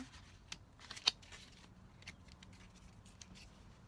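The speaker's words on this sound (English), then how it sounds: "I shuffle these a little bit different" A deck of cards is shuffled by hand in an unusual way, giving soft riffling and a few sharp snaps and flicks in an irregular rhythm close by in a quiet room.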